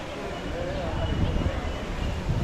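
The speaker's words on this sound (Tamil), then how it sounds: "இந்த பக்கமெல்லாம் நல்லா காற்றடிக்குதுங்க" Wind gusts across the hilltop grounds of Sivanmalai Murugan temple near Kangayam, a steady broadband rush with low rumbling buffeting on the microphone, loud and continuous throughout.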